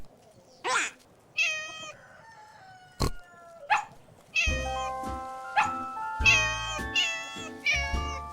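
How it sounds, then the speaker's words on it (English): Several high, drawn-out kitten meows come one after another, close by, mixed with a few sharp knocks and other animal calls. "No, that's a kitten's meow."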